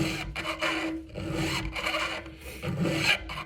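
A Pferd double bevel file rasps across a chainsaw chain in quick, repeated scraping strokes, close up and steady with short gaps between passes.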